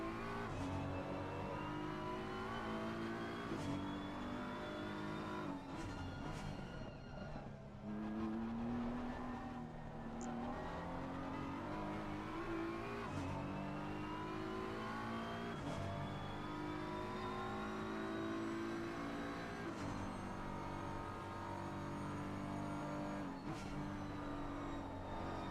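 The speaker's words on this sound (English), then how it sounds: "He's kept the car going around the corner, he's kept it on the track." Race car engine in a sim racing sprint race, heard through a hill section and the carousel: faint, continuous whine rising and falling with acceleration, gear changes and braking, with no talk over it.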